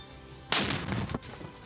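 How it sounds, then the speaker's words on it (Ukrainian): A single sharp gunshot cracks out on the Orikhiv front in Zaporizhzhia, loud and close, followed by a brief rumbling echo that fades over about a second. "Постріл!"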